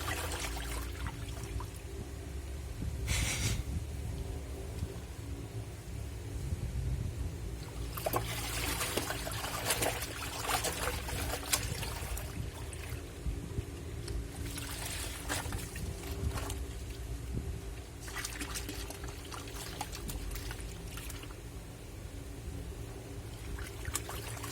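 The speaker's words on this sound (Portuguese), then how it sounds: "é só pegar assim com a água e despejar assim" Water is poured by hand into a Black&Decker washing machine, a low, steady splashing and trickling that runs continuously at fairly quiet level, with brief louder gushes now and then and no talking.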